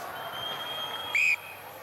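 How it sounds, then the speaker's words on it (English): A referee's whistle signals half-time at an Argentina versus New Zealand rugby union test match in Buenos Aires in 2005: one sharp, loud blast over a steady crowd murmur. "that is the whistle to indicate half-time"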